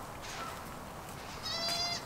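Newborn spring goat kids bleat faintly in a barn-like space, a short thin cry rising near the end over quiet background.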